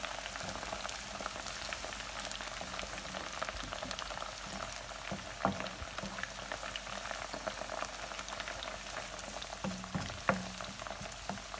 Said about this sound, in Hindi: इसमें लहसुन अदरक डाला है पिसा हुआ। अब इसको थोड़ा सा भूनेंगे।